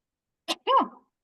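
A double sneeze from an adult: a short sharp first burst, then a longer voiced second sneeze a moment later, close and isolated in a quiet room.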